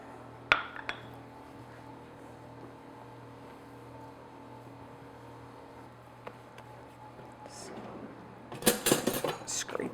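A spatula scraped and tapped against a mixing bowl of cake batter, with a sharp clink near the start, a quiet stretch after it, then a close burst of rapid scraping at the end.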